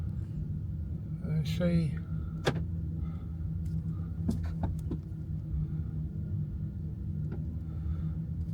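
A car rumbles steadily as it drives across a heavy horse farm in Scotland, with a low, continuous road and engine drone under people talking and a few faint knocks.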